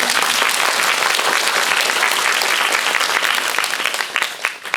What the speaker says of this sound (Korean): 큰 박수 부탁드리고요